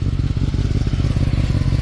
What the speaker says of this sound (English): So this is the idling of the bike.